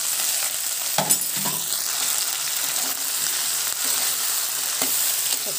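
Chopped okra and green chillies frying together in a pan, a steady close sizzle with occasional sharper crackles and stirring scrapes, with no one talking.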